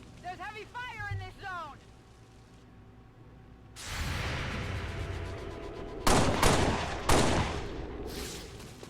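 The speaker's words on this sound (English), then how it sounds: "There's heavy fire in this zone." Heavy gunfire in the video game XCOM 2: after a brief stretch of talk, a sustained roar of fire sets in, punctuated by several sharp, loud bursts near the end.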